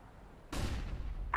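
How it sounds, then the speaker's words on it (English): A flashbang thrown in a multiplayer shooter game: a sudden burst of blast noise after a quiet moment that rings out and decays, then a sharp bright pop right at the end. "Throwing a flashbang."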